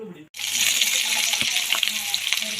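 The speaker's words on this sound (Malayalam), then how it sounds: "പിന്നെ ചെറിയ ഉള്ളി ചെറുതായിട്ട് അരിഞ്ഞു വെച്ചിട്ടുണ്ട് അതും കൂടി ഇട്ടിട്ട് ഒന്ന് നമുക്കൊന്ന് വറുത്തെടുക്കാം" Finely chopped shallots drop into hot coconut oil with fenugreek seeds and erupt into a loud, steady crackling sizzle that carries on with small pops and stirring sounds, close at hand.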